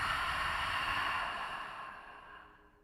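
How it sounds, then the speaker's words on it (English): Ujjayi ocean breath exhaled through the open mouth, a single long hollow, breathy hiss from the back of the throat, close and soft, slowly fading out over a few seconds. "I want to do something which I like to call ocean breath."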